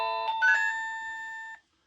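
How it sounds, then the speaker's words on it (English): An OhmKat doorbell chime paired with a SimpliSafe video doorbell plays a short tinkling Jingle Bells melody of bright, sustained tones that ring out and then cut off abruptly. "Jingle Bells is a nice tone."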